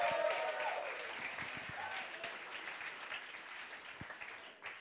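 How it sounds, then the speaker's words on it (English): A crowd applauds performers at a live pet-themed talent final, a moderate, steady spread of clapping heard from a distance, with a voice briefly audible at the start. "Give them a round of applause so far"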